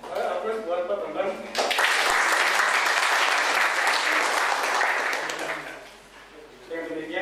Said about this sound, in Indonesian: Aplaus buat Pak Bambang.